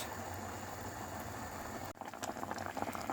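Thick Cypriot grape-molasses dessert bubbles and simmers steadily in a pot, with small pops growing more distinct toward the end.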